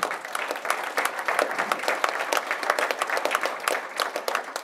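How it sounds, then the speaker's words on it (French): An audience applauds after a talk at a conference on foil regulation in offshore sailing: a moderate-sized room's clapping, with individual claps distinct within an uneven, lively patter. "Merci beaucoup, on peut les applaudir"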